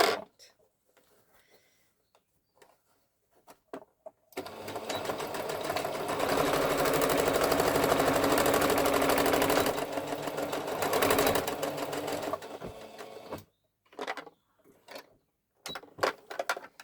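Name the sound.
sewing machine stitching a bag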